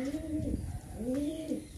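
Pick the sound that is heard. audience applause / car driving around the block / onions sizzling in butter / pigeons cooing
pigeons cooing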